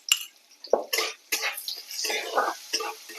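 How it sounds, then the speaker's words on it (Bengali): Potatoes being stirred in a kadai (wok), giving a few scraping, clattering stirs with metal utensil knocks at close range, some brief and separated, others rougher and more continuous. "আলুগুলো কড়াতে দিয়ে দিলাম একটু নেড়ে"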